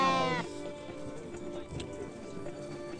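A male lamb bleats loudly and close at a livestock market in Karakol, one drawn-out cry in the opening half second, followed by a murmur of market background noise and faint distant voices.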